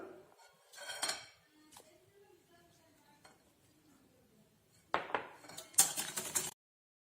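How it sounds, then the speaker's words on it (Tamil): Eggs and powdered sugar being beaten in a bowl for a semolina cake, heard as close, quiet utensil scrapes and clinks in short bursts, with a louder stretch of rapid clattering toward the end. "முட்டையை முதல்ல நல்லா அடிச்சு எடுத்துக்கலாம்"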